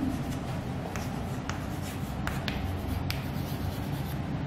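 Chalk or marker scratching across a classroom board during a physics lesson, short strokes and taps spread irregularly over a steady room hum.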